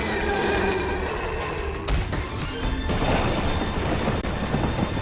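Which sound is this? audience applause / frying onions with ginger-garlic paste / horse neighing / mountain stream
horse neighing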